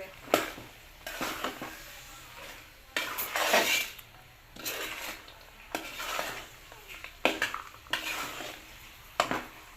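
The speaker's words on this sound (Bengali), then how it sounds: "এখন এগুলোকে একটু ভালোভাবে নেড়ে 1 মিনিট মতো লাগিয়ে নেব, মশলার সাথে ভালোভাবে কষিয়ে নেবে।" A spoon stirs green peas with spices in a cooking pot, giving repeated scraping and clanking strokes in irregular bursts over a light sizzle, close and fairly loud.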